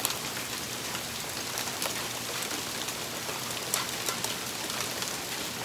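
Heavy hail pours down outdoors on a cold day, a dense, continuous roar of pelting ice scattered with sharp individual impacts, close and loud with no voices.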